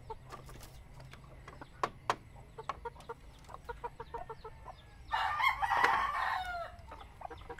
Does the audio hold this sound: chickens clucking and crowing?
yes